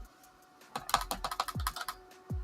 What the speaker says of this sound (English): keyboard is sideways, so it's harder for me to find the letters I need